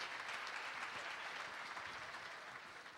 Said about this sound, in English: let's hear a round of applause again